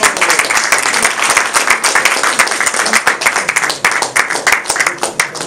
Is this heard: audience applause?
yes